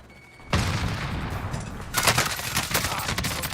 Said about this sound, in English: Shit! I'm taking fire!